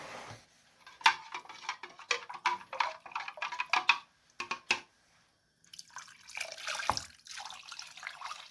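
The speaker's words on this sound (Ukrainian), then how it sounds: "Виливаємо тепер його сюди все." Sugar brine poured from a container over silver carp for home smoking, a clear close splashing trickle in bursts with drips, pausing briefly, then a steadier run of liquid at the end.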